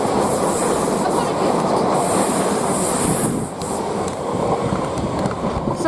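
A Class 458 electric multiple unit, number 458521, runs through Queenstown Road station on the South Western Main Line, a loud, close, sustained rumble of wheels and rails with faint squeal, no talk.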